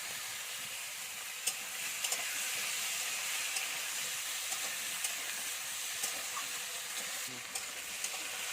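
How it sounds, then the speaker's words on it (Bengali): Fish frying in a pan for a tangy mango fish curry, a steady sizzling hiss running throughout with a few faint clicks and taps of stirring, close and even in level. "এখানে আমি সব মাছগুলো এরকম করে ভেজে নিচ্ছি"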